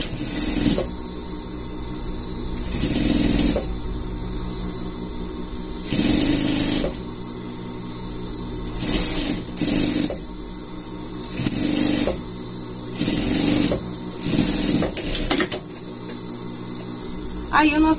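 Sewing machine stitching a seam on a small gaucho-style poncho for a pet, running in repeated short bursts with brief pauses between, over a steady electrical hum.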